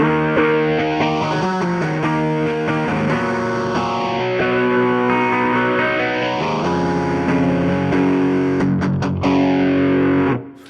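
Overdriven electric guitar run through a TC Electronic Helix Phaser stereo pedal, slow sweeping phase swirls moving over sustained distorted chords, loud and alone with no voices.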